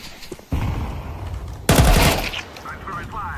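Gunfire from Counter-Strike 2 rings out in two bursts, a sharp onset near the start and a louder, denser volley midway, with shots and headshot hits ringing under a faint voice.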